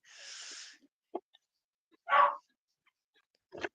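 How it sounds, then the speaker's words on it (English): A small Shih Tzu gives a few separate sharp barks and yips, spaced apart with silence between them, close by and fairly loud. "Whose dog's barking?"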